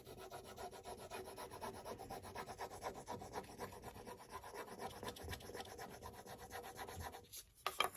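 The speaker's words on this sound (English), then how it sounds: "And we're just gonna rub on the transfer." A rub-on transfer decal is burnished onto a surface with quick, faint, rhythmic back-and-forth scraping strokes, close and quiet, ending in a couple of small knocks.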